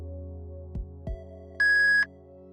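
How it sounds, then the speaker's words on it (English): A single steady electronic voicemail beep sounds clearly for about half a second, preceded by two soft low thumps against a quiet hum. "please leave a message after the beep"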